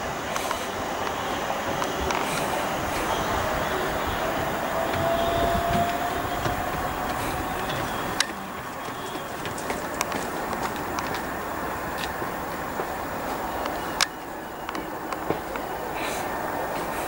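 A Class 377 electric train pulls away from Southease station on the Seaford branch line, a loud close rumble and rising whine with occasional sharp wheel clicks on the rails, sustained throughout.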